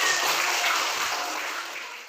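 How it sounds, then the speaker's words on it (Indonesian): A classroom of students applauds after a group presentation, a dense, even wash of clapping that holds steady and tapers slightly over two seconds. "Ya, beri tepuk tangan."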